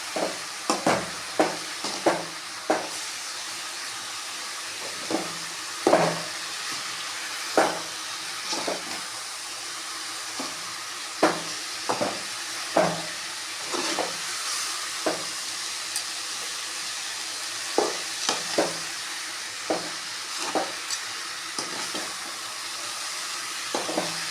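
Bitter gourd sizzles and fries in a pan with turmeric and fennel seeds. A spoon scrapes and stirs it in frequent, irregular strokes, close and steady, with no talking.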